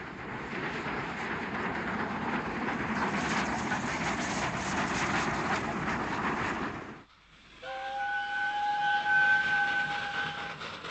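The LNER A3 steam locomotive Flying Scotsman runs past with a steady, rushing rail roar for several seconds that cuts off abruptly, followed by a quieter stretch carrying a sustained whistle-like tone.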